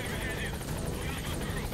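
A helicopter in the video game Metal Gear Solid 5 makes a steady, loud rotor and engine roar that fills the whole moment without pause.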